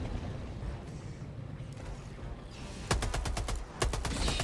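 A rapid burst of gunfire in Helldivers 2 cuts sharply through a low rumbling game background, followed by a second short volley.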